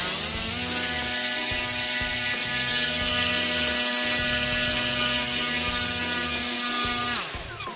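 Small NTM Prop Drive 28-26A 1200kv brushless motor swinging an 8x4.5 inch prop on a thrust test stand, a loud steady high-pitched whine with a constant tone that holds for about seven seconds and then begins to spin down at the end.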